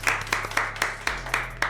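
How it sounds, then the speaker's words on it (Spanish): Audience applause breaking out on cue, a few quick bursts of clapping with sharp hand-slap peaks over a low hum, moderately close and fairly brief. "Esto merece un aplauso, por favor."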